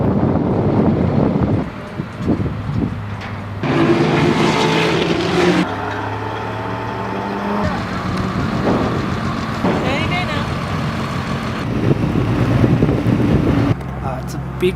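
Race car engines roar at a big regional race, loud and close with wind buffeting the microphone, shifting in intensity across several passes while people talk over the noise.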